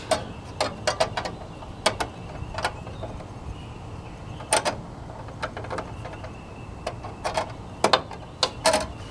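A small line wrench tightening a brake line fitting on a 4WD Daytona gives sparse metallic clicks and ticks in uneven clusters, close but fairly quiet.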